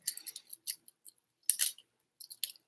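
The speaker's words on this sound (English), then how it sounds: "I gotta cut this. Little scissors." Small scissors snip through plastic packaging in several quick, close bursts of crisp cutting with short pauses between, no talking.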